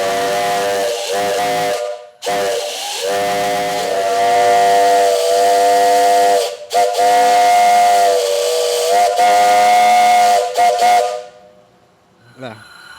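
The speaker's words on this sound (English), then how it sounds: "I'm just going to blow the whistle and be done with it." A steam whistle on a steam boiler blows loud and close in long, sustained harmonic blasts with brief gaps between them, then cuts off and leaves a fading hiss.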